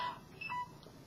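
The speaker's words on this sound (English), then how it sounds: "And my phone is beeping." A mobile phone gives a few short, faint electronic beeps in a quiet indoor room at night, brief tones with small gaps between them.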